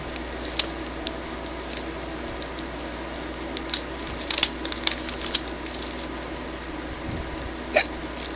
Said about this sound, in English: Somebody wanted me to hiccup on camera.